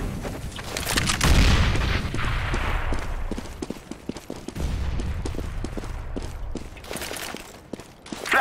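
Rapid gunfire and booming blasts from a video game firefight come close and loud, with a heavy explosion near the start and irregular shots continuing through the rest.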